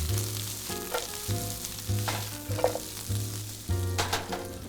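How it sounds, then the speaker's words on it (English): Onions sizzle and fry steadily in a hot pan, with a low hiss running throughout and occasional louder crackles and stirring scrapes, close by and with no talk. "put the onions on. Yeah. All right, and then you're gonna want to cook them till they're soft"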